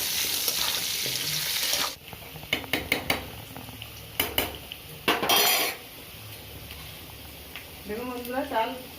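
Potatoes with turmeric and salt fry in a pan, a steady sizzle under a voice at first, then a spatula scraping and clinking against the pan in short bursts, with speech returning near the end.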